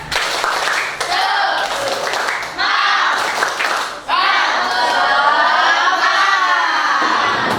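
Classroom of students doing the rhythmic tepuk semangat clapping chant, bursts of clapping mixed with loud shouted chanting voices, energetic and close, ending in a sustained group cheer.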